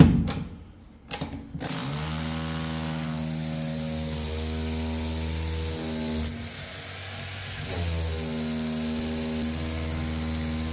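A power drill in drill mode, fitted with a long bit, whirs up after a couple of brief starts, running steadily and loudly close by, dipping briefly midway, then revving back up.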